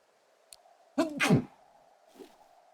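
A single sharp sneeze from a streamer at a desk microphone, a quick intake followed by a loud burst, then a faint small exhale or murmur afterward over a low steady background hum.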